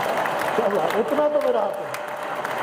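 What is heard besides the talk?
audience applause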